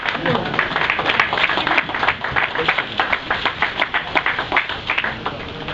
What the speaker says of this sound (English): That's a beautiful expression. Please clap.